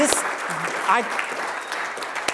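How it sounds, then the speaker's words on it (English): A round of applause from the audience at a technology conference rings out at moderate volume through the short span, with scattered voices and a few cheers mixed in. "But first, round of applause."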